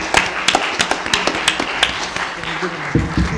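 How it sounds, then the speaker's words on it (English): Round of applause at an ecumenical gathering in Geneva, with sharp, uneven claps ringing out close by over a few seconds and a murmur of voices underneath. "Let's give ourselves a big round of applause for this historic moment"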